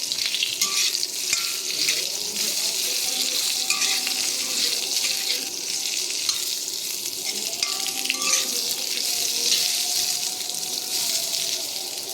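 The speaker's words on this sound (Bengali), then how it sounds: "সজনা আলু আমি একসঙ্গেই ভাজি।" Drumsticks and potatoes with dried red chillies fry together in a pan, a continuous close sizzle and crackle with occasional stirring clatter, steady throughout with no talking.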